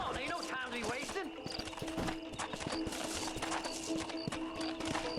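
Horse hooves clip-clop at a walk in Red Dead Redemption, close and steady beneath busy game ambience, music and a voice speaking.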